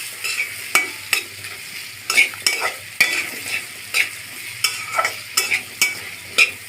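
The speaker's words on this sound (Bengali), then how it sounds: "দিয়ে দিব থেতো করা আদা, দিয়ে দিব হলুদ গুঁড়া, মরিচ গুঁড়া। মশলাগুলি ভালোভাবে কষিয়ে নিব।" Crushed ginger, turmeric and chili powder are sautéed in a pan, with a soft sizzle under repeated sharp, clattering stirs of a spatula, roughly one or two a second, close by and with no talking.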